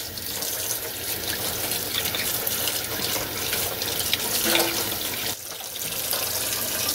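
Cold tap water runs steadily over dyed knife handle scales as the excess dye is rinsed off, a continuous close splashing stream with a brief dip near the end.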